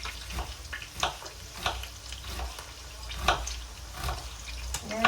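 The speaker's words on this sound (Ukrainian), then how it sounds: "Ребра так підсмажились." Pork ribs frying in a pan give a steady close sizzle, broken by irregular sharper crackles and stirring clatter across the few seconds, with no talking.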